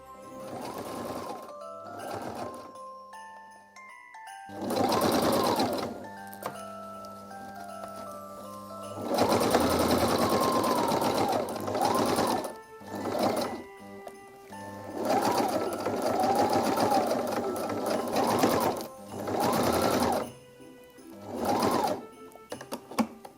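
Sewing machine stitching fabric Christmas crackers with hook-and-loop strips, running in several loud whirring bursts of a few seconds each, separated by quiet pauses and small handling clicks.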